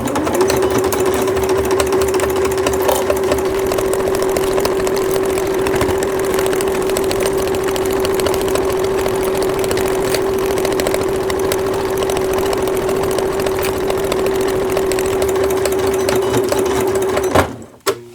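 A sewing machine stitches steadily around the curved hood of a child's rain cape, a loud continuous whirring hum held for many seconds before it stops abruptly.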